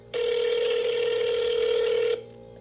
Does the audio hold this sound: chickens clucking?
no